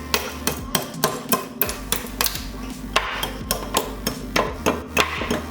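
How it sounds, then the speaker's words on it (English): A hammer chips and smooths the edges of a block of clear homemade ice, giving about a dozen sharp, close taps at a steady, slightly uneven rhythm with no talking. "Now I'm just gonna grab the hammer and make the edges a little smoother."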